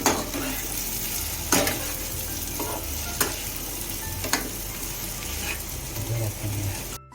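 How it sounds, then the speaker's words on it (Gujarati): Puffed rice snack mixture with grated coconut being stirred in a pan, a steady scraping and rustling with a few sharp clinks of the spoon against the metal, close and continuous, with no talking. "અને હવે નાખીશું આપણે ટોપરાની છીણ. બસ હવે આને એક વખત બરાબર મિક્સ કરી નાખવાનું."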